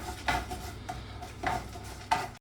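Urad dal and chana dal being sauteed in a pan for curry leaf chutney, with a few spaced scrapes of a spoon over a low, steady background hiss, close by.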